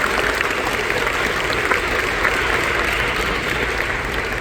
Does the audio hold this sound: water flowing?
no